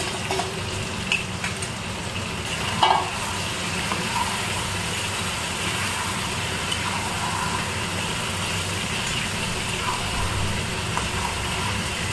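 Goat meat is stirred and fried in a pan in a Kolkata home kitchen, a dense, continuous sizzle with a low background hum and one brief knock, and no voices.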